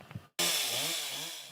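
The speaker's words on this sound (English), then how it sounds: "a cacophony of chainsaws ringing across Spalding County as crews work to clear trees from driveways and homes" Chainsaws cutting through trees downed by a tornado in Spalding County, Georgia, burst in suddenly after a brief silence and keep up a loud, continuous, high-pitched whine close by.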